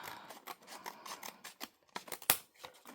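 Scissors snip through a paper file folder in quick repeated close cuts, crisp rhythmic crunching strokes with one sharper snap near the end, and no voices.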